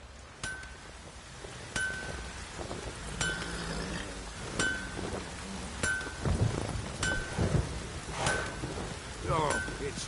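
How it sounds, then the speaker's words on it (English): Rain falls in The Witcher 3 game world, a soft continuous patter with periodic metallic clinks and faint distant rumbles, mixed under other game sounds and occasional voices. "Oh, it's drizzling."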